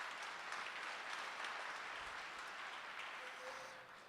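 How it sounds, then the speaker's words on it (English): An audience at a company all-hands meeting applauds, sustained clapping at a moderate distance that tapers off toward the end. "give yourselves a round of applause for that"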